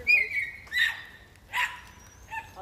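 Lurcher and terrier dogs yip and bark in short excited bursts during an outdoor chase, with high whining yelps between them, moderately close and unaccompanied by talk.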